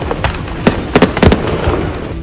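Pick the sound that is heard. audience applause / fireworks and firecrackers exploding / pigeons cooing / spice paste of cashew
fireworks and firecrackers exploding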